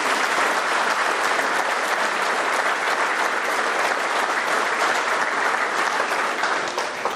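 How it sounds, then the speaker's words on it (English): Sustained, dense applause from a large dinner audience honoring a Marine Corps division band, brass quintet and color guard, steady and loud throughout with no pause. "join me in another round of applause for the 2nd Marine Division Band, the Brass Quintet, and the Color Guard from 2nd Marine Division"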